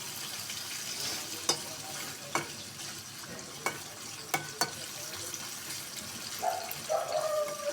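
Young hilsa (jhatka) fish being sautéed in plenty of oil in a pan: a soft, low sizzle runs throughout, broken by occasional sharp clinks and scrapes of stirring, and a brief louder sputter near the end.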